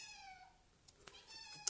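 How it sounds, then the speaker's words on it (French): A small kitten meows in a thin, drawn-out cry that falls in pitch, then a couple of shorter, fainter mews follow, with the sound fairly close and quiet in an indoor room. "j'ai mon petit chaton qui miaule"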